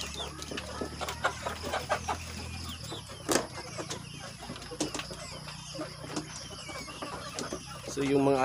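Eleven-week-old layer chickens cluck and chatter at close range, soft repeated calls over a low farmyard hum, with a few sharper peeps scattered throughout.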